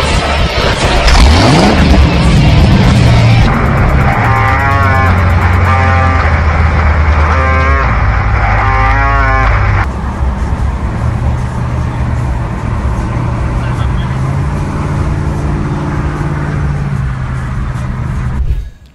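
A classic Corvette Stingray engine roars and revs loudly and continuously at close range, with deep rumbling and repeated rises in pitch. No one speaks.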